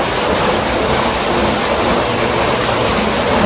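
Creek water pouring over a weir beside a pumping turbine in a rainforest on the Atherton Tablelands, a loud, continuous roar of rushing water with no letup.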